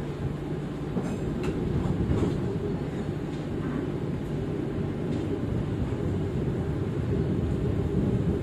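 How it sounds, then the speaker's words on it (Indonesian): Continuous low rumble of the Bogowonto economy-class passenger train departing Yogyakarta station, with faint clicking from the rails, steady and moderately quiet. "kereta api Bokowonto sudah berangkat dari stasiun Yogyakarta"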